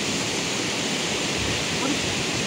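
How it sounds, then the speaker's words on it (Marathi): A waterfall at the Shri Marleshwar pilgrimage site roars in a steady, dense rush of water, loud and continuous throughout, with no clear voices over it. "मित्रांनो आपण आलं धबधब्याच्या इथं"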